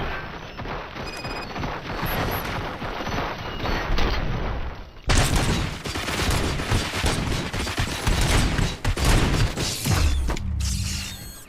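Gunfire and clashing mechanical noise in the RoboCop video game: a dense, loud barrage of shots and metallic clatter, briefly dropping out near five seconds before resuming and continuing steadily.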